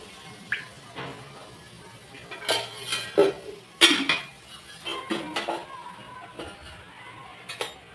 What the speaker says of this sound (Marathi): गॅसवर कढई ठेवलेली आहे। आपण 2 चमच तेल टाकणार आहोत।